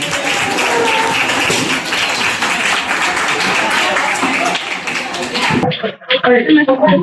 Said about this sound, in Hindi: एक बार जोरदार तालियां बजाते हैं उनके लिए।